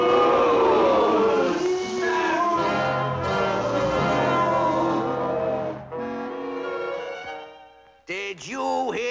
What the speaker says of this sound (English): Did you hear that crowd booing?